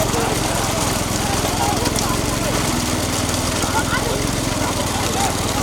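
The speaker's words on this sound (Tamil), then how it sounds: "டிராக்டர் சுற்றி போகிறாங்க" A tractor engine drones steadily as it circles the course at a village bullock-cart race in Sevalpatti, a constant close rumbling hum with faint voices in the background.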